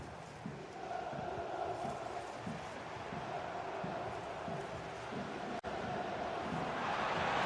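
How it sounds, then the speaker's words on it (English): A stadium crowd in a video game football match keeps up a steady, moderately loud roar and chanting murmur, with a brief sharp dropout near the end and the noise swelling at the close. "Being egged on by the crowd."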